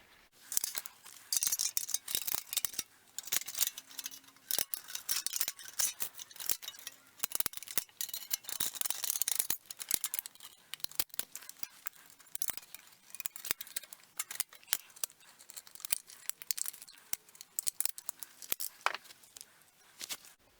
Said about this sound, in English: So I'm going to cut the outer edge, cut those 45-degree slits